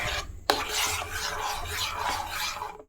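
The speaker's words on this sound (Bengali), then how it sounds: "বেশ অনেকক্ষণ নাড়াবো যতক্ষণ না সুন্দরভাবে দুধের সাথে মিশে যায়।" Mango pulp stirred into thickened milk for mango phirni, a close rhythmic scraping and rasping of a spoon against the pot after an opening knock, steady and alone.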